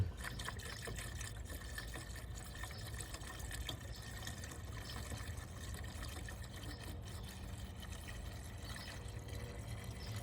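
Pre-diluted coolant pours from a gallon jug through a funnel into a 2005 Chevrolet Silverado, a faint, continuous trickling and gurgling that lasts throughout.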